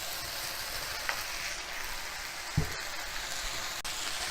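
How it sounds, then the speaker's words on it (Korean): Mushrooms and ham stir-frying in a pan for a group-trip meal, a steady close sizzle with a couple of brief clacks of a utensil against the pan. "햄까지 넣고 어느 정도 볶아줬고요"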